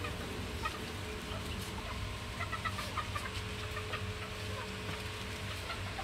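Chickens cluck repeatedly nearby in a yard at dusk, scattered soft calls from several birds over a low background murmur.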